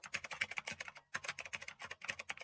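Quick, steady keystrokes on a computer keyboard patter close by in two bursts separated by a brief pause, crisp and fairly quiet with no voices.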